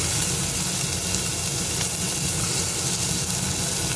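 Potatoes tipped into garlic frying in a pan, giving a steady loud sizzle and hiss that fills the whole stretch with no pauses and no voices.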